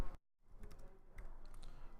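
Several quick keyboard keystrokes, close and fairly quiet, in a short burst after a brief silence, with no talking.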